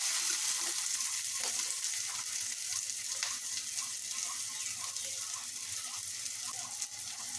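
Tomato sizzles in a pan with browned onions for a tomato bhorta, a steady broadband frying hiss with faint stirring clicks running throughout, close and continuous with no talk.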